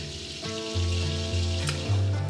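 Chunks of meat fry in hot fat and oil in a pot for Sunday gravy, a steady close sizzle with rising hissing bursts and crackles, no voices.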